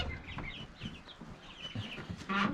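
Hens cluck repeatedly inside a chicken coop, a busy overlapping chorus of short calls that rises to a louder burst near the end.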